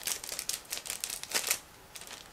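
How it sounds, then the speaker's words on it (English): Plastic bag from a Miniart 1/35 D8506 tractor model kit being cut open, a close run of crisp snipping and crinkling bursts, uneven and fairly loud, with no voices. "So I have to cut through this plastic bag"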